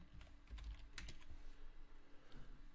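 Quick, light keystrokes on a computer keyboard while entering code, a handful of close clicks in irregular bursts with brief pauses, quiet and alone without talk.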